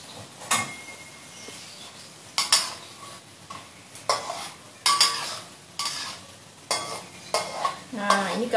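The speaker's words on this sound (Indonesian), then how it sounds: "minyaknya udah panas saya masukin, terus digoreng pakai api sedang" Food frying in hot oil over medium heat, a constant crackling sizzle broken by repeated clinks and scrapes of a utensil stirring in the pan at close range, with no voices.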